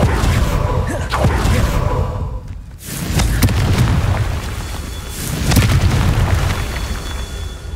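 Blasting spells explode in the Hogwarts Legacy video game, repeated deep booms and whooshing bursts rolling one after another, loud and close with rumbling tails between them.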